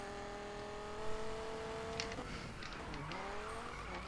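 A car in the PC racing game Need for Speed 2016 drives and drifts, its engine tone rising and shifting through gears with a thin tire squeal, heard fairly quietly and alone with no talking.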